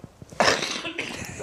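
One sharp, close human cough bursting out suddenly, followed by a short breathy tail and faint throat noise in a quiet indoor room.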